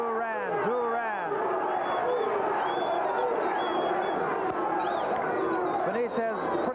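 Boxing arena crowd on its feet in a loud, continuous roar of cheering and shouting at the start of a round in the Roberto Duran vs Wilfred Benitez fight, with an announcer talking over it.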